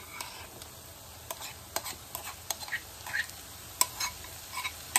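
Soya keema cooks in hot oil with spices, giving a soft, steady sizzle broken by scattered scraping clicks from stirring, faint and close, with no talking.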